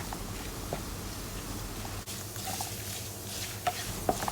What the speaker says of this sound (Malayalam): തേങ്ങ ചേർത്ത് നല്ല ഗോൾഡൻ ബ്രൗൺ കളർ ആവുന്നത് വരെ വറുത്തെടുക്കണം